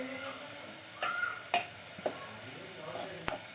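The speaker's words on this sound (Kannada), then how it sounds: "ಈಗ ಮೂಲಂಗಿ ಹೋಳು ಹಾಕಿ ಕೊಳ್ಳಿ. ಚೆನ್ನಾಗಿ ಮಿಕ್ಸ್ ಮಾಡ್ಕೊಳ್ಳಿ." Radish pieces frying in a pan give a steady low sizzle, broken by several sharp scraping clacks of a spoon stirring, close and alone without talk.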